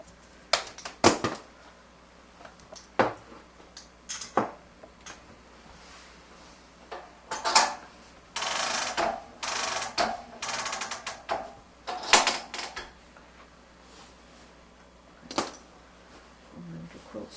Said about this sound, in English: So I'll release my clamps and I'll advance the quilt.